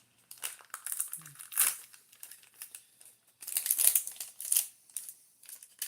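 Crinkly plastic foil wrapper of a 2026 Series 1 baseball card fat pack being torn open and handled up close, in irregular bursts of crackling and rustling with brief pauses between.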